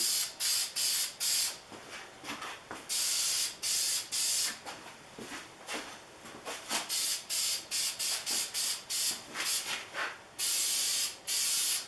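Spray paint is applied in short bursts to a hand plane body during refinishing, giving repeated loud hissing blasts, some brief and some longer, close up and with no voices.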